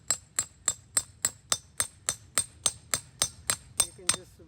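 Fifteen evenly spaced metallic blows, a few ringing strikes each second, hammer a 1.5 socket to drive a wheel bearing into a Ford Transit Connect. No voices.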